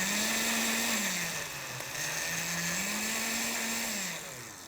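A personal blender whirs steadily at home as it mixes Caesar dressing, its loud motor hum dipping and rising in pitch as the load shifts, then easing off near the end.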